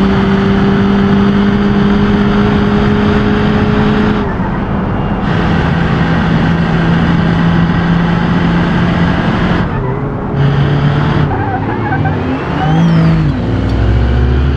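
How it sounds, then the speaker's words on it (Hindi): A Hyundai Creta 2020 engine in a driving video game on a hilly mountain road, droning loudly and steadily as it accelerates, with the pitch climbing and dropping across gear changes. "ये Hyundai Creta में ना एक चीज है, ये बड़ी लेट रेस पकड़ रही है यार"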